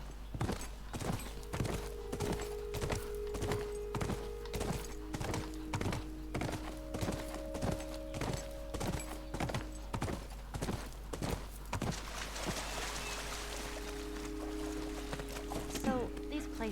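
Horse hooves clip-clopping in The Last of Us video game, a steady, close, even rhythm of hoofbeats that runs through most of the stretch, with tonal game sounds and some talk over it.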